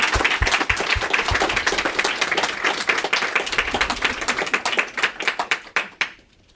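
A live podcast audience breaks into loud, dense applause that holds steady at close range, then thins into scattered claps and stops near the end.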